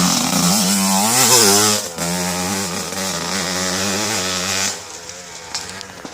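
A 1990 Suzuki RM125 two-stroke dirt bike tears past on a wooded trail, its engine loud and close, revving up and down through shifting pitch before dropping off and fading near the end.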